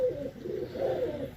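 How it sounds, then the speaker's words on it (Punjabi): A Teddy breed pigeon coos at close range, a few soft, low, throaty rolling calls in a quiet setting with faint background hiss. "ਇਹ ਦੇਖੋ ਜੀ ਕਬੂਤਰ ਹੈ।"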